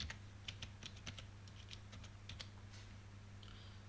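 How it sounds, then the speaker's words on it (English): Quick, light keystrokes on a computer keyboard type out a short search query, a close, soft run of irregular clicks over a low steady hum, with a short pause before the last few taps. "In search, type Power BI."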